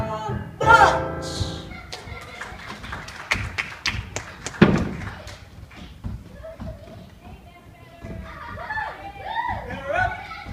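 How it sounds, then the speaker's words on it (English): People playing ball outside a farm produce scattered dull thumps and taps, one sharper thud standing out, mixed under frequent talking. "It's just those wretched people from the farm playing ball"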